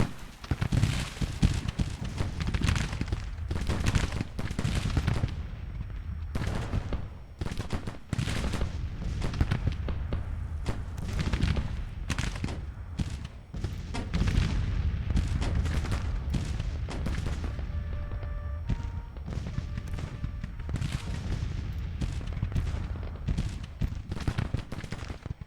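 Continuous battle din from Grand Tactician: The Civil War, with dense booming artillery and scattered musket volleys rolling on without pause, loud and layered throughout.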